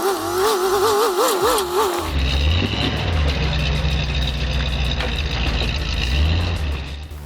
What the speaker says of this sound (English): Hydrostatic twin-turbo diesel motorcycle.